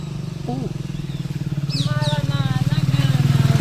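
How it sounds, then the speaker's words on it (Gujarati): A motorcycle engine idles with a rapid, throbbing putter that grows louder, while a person talks and calls out over it. "હવે અહીં આવી ગયો બાઈક"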